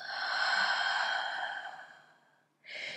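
A long, breathy exhale through the mouth during a yoga flow fades out over two seconds, followed by the start of another audible breath, close and without talk.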